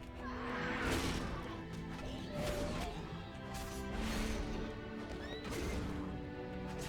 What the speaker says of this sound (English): Oh, look at this. It's a rare horse.